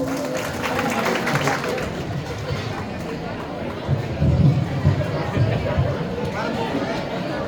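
Audience clapping at a village prize ceremony for a temple festival in Lilapur, a steady burst of applause with crowd chatter underneath, swelling louder near the end.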